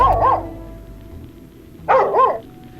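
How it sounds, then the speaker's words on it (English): A dog barks in the Infinifactory video game, two separate bursts of rapid yipping barks about two seconds apart, clear and close with a quiet background between them. "Is this a dog? They kidnapped someone's dog"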